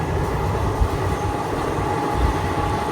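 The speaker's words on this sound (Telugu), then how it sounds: "ట్రైన్ కూడా మంచి స్పీడే పోతుంది ఇక్కడ." Kacheguda Express train running at speed at about 100-110 km/h, a steady, loud rumble of wheels and carriages heard from on board for the full stretch, with no voices.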